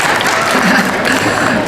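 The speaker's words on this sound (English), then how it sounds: "Big applause." Big audience applause welcoming a presenter on stage at a skincare talk, a loud, continuous wash of many hands clapping at once, steady from start to finish.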